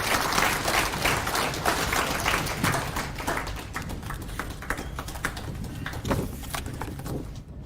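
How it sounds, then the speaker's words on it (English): An audience at a pension scheme AGM in Nairobi's KICC applauds the chief guest with sustained, dense clapping that continues throughout and thins slightly toward the end. "may we continue to appreciate and applaud our chief guest today"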